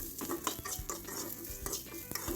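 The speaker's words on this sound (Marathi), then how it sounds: "आता आपण कढईमध्ये घालणार आहोत हिरवी मिरची" Green chillies are tossed and stirred in a kadhai for a tawa paneer pizza, with repeated scraping clinks of a spoon against the metal pan over a light sizzle of frying.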